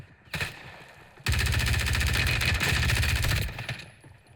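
Loud automatic gunfire from the game Modern Warfare III Warzone: a short burst, a brief pause, then a long sustained stream of rapid rounds that tapers off, with no voices.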